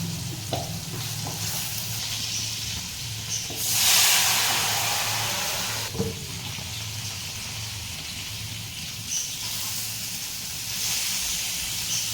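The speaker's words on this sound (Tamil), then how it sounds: "குழம்பு நல்லா கொதிச்சிட்ருக்கு." A pot of seer fish kuzhambu (Tamil fish curry) bubbles and sizzles steadily on a home stove, a continuous close hiss with a brief louder surge of frying and steam midway.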